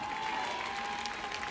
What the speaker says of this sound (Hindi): तालियां साहब